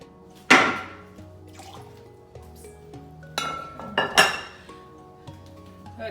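Pusser's Old Navy dark rum is poured into a cocktail glass holding light rum, one ounce for a Trader Vic Mai Tai, with sharp glass clinks and clatter, a brief trickle and scattered knocks nearby.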